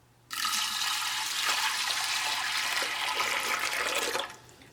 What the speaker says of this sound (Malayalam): ഈ പരിപ്പ് വേവിച്ചെടുക്കാൻ വേണ്ടിയിട്ട് ഇതിലേക്ക് നമുക്ക് വെള്ളം ചേർക്കാം.